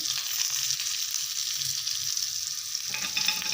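Green chillies frying in oil in a pan with salt, cumin powder and turmeric, a steady loud sizzle with brief stirring scrapes near the end, close and without talk.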